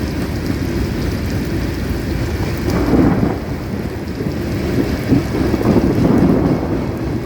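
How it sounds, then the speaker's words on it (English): Thunder rumbles low and loud through a steady downpour at a covered train platform in Folkston, Georgia, with heavier rolls swelling twice over constant rain hiss and some wind buffeting. "there's some of that lightning and thunder I was hoping for earlier"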